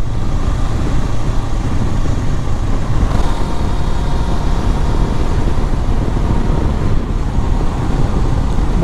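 A Honda CB 500 X motorcycle rides up highway BR 262, heard as a steady, loud roar of wind and road noise with the engine hum buried beneath, constant for several seconds.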